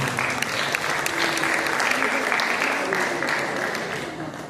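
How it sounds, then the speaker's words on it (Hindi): An audience claps steadily throughout at a speech competition, a dense, even wash of many hands close by that thins slightly toward the end, with a voice faintly present beneath. "तो वो भी अपने लिए ताली बजाए।"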